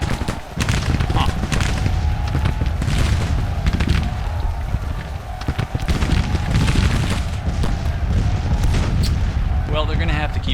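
Dense, continuous rumbling musket and artillery fire from a large Civil War battle at Chancellorsville in the strategy game Grand Tactician: The Civil War, a steady distant roar of shots and booms with someone talking over it.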